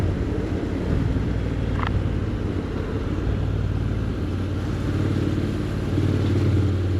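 A Honda X-ADV 750 motorcycle rides and leans through corners, its engine a steady low drone rising and easing slightly beneath constant wind rush, with a brief sharp click partway through.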